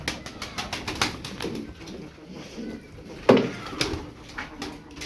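Tumbler pigeons cooing softly outdoors, with scattered light clicks and flutters around a steady background.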